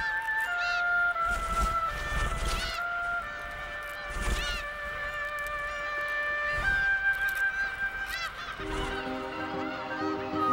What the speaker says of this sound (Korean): 둥지를 찾는 새끼, 새끼를 찾는 부모의 울음은 한밤중까지 계속된다